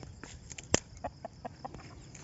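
A chicken clucks in short, soft bursts nearby, with one louder squawk near the start and several quieter clucks spaced after it.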